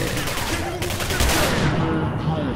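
Gunfire through a window in the shooter game Singularity comes as rapid bursts of close, sharp shots over a busy game soundscape.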